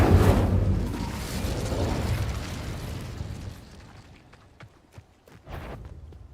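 Incendio fire spell cast in Hogwarts Legacy, a loud whooshing burst of flame at the start that rumbles and fades over a few seconds, followed by a few faint clicks and thuds.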